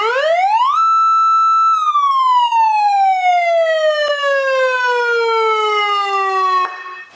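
Police siren from a motorcycle signalling kit with lights and beacon, a loud close electronic wail that sweeps up fast, holds briefly, then slides down in one long falling tone before cutting off.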